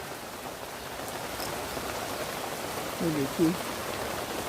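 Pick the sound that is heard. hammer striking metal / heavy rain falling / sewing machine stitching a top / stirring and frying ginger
heavy rain falling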